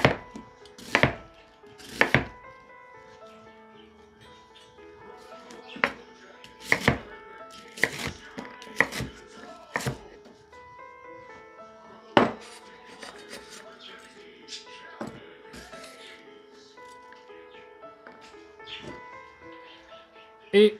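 About 100 g of onions are chopped into pieces, a series of sharp, irregular knife strikes on a cutting board with quiet gaps between them and some faint talk.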